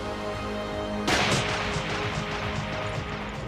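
A single sharp sniper gunshot in a war film scene, sudden and loud, followed by a brief rumbling decay over a steady background of score or ambience.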